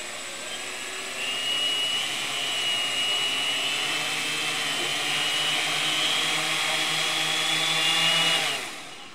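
Quadcopter motors spin up under full left throttle in a close, loud, steady buzzing whine. It swells after a second, holds for several seconds and then cuts off abruptly.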